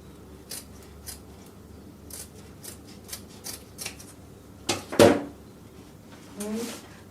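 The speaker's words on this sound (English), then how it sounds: "now we have to slash the fabric" Scissors slashing fabric on a dress being draped, giving a few quiet close snips followed by one louder cut, with a voice speaking briefly near the end.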